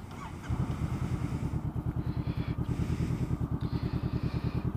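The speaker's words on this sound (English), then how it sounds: "I'm going to show you my Coffmans exhaust." Honda CBR500R motorcycle fitted with a Coffmans aftermarket exhaust, starting up and then idling with a steady, loud, rapid thumping pulse close by, with no talk over it.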